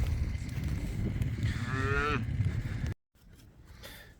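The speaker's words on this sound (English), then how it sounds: "this one's just not mothered its calf and got it suckled" A cow with her newborn calf on a farm lets out a single low moo midway through, heard over steady background noise before a brief cut.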